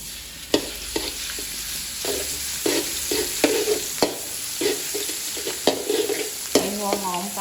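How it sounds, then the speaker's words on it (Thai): Garlic frying in a pan for a long-bean and shrimp-paste stir-fry, a steady sizzle broken by regular scraping and stirring strokes of a spatula against the pan. "ใส่กระเทียมลงเจียวก่อนค่ะ"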